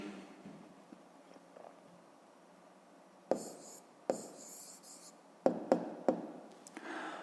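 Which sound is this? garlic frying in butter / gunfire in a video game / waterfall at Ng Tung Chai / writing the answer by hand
writing the answer by hand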